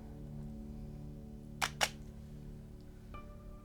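Two quick, crisp camera shutter clicks sound close together over a faint steady hum.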